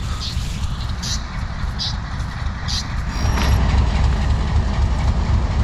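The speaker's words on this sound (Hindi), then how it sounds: "134 डाउन कोहाट एक्सप्रेस रेडी है जी अपने सफ़र के लिए" Kohat Express passenger train at Kohat Cantonment station on 2 ft 6 in narrow gauge track, a steady loud rumble and engine drone that swells in the second half, with faint clanks.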